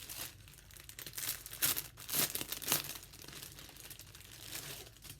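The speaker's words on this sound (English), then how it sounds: "Sorry about the crinkling." Crinkly plastic packaging rustles and crackles close by while embroidery floss is unwrapped, soft continuous crumpling with a few sharper louder crinkles.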